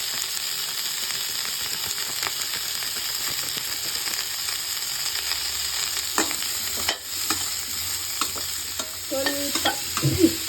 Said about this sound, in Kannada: ಈ ಥರ ಫ್ರೈ ಮಾಡಿಕೊಂಡ್ರೆ ಕಾಲಿಫ್ಲವರ್ ಟೇಸ್ಟಿಯಾಗಿ ಬರುತ್ತೆ.